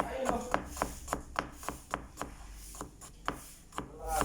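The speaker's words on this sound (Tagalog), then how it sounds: "Yan, hiwa muna tayo ng luya." A knife chops ginger on a wooden board for a sauté base, about a dozen crisp, evenly spaced strokes close up and fairly quiet, with no talking over them.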